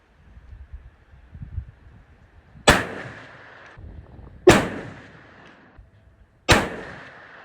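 Three loud rifle shots firing ELD-X bullets at a 200-yard target, each a sharp crack with a ringing decay, spaced about two seconds apart over quiet outdoor background noise.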